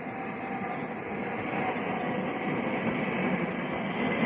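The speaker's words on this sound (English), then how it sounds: "lots of very, very noisy trams" Noisy trams passing along an old street in Olomouc, a steady loud rumble of rail traffic close by with no talk.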